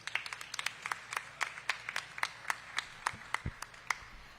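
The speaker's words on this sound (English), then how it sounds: "Big round of applause for Kendra." A small scattering of applause in a dairy building at the unveiling of the Butter Cow, individual hand claps in an uneven rhythm, fairly faint and thin, as from a modest audience.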